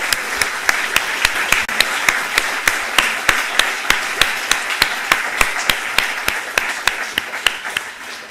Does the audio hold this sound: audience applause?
yes